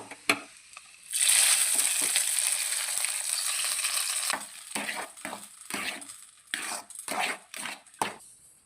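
Nuts and raisins frying in hot ghee for kesari, a steady bright sizzle starting after a second and running several seconds, then broken into short bursts with stirring and utensil clinks.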